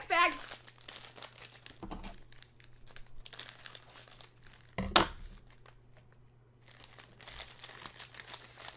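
A plastic bag of Lego Disney Series 2 minifigures is torn open and handled, giving several bursts of close, sharp crinkling separated by quieter gaps, while a voice talks between the rustles.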